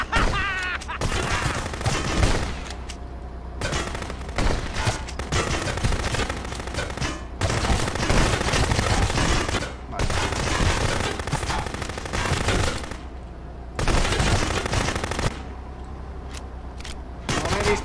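Rapid gunfire rattles through a shootout in the police game Contraband Police, with dense bursts of automatic shots coming in waves over roughly eighteen seconds and only brief lulls between them.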